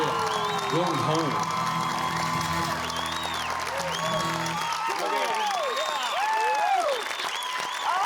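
Steady audience applause with cheering and whoops fills a studio after a live song performance, with voices calling out above the clapping throughout.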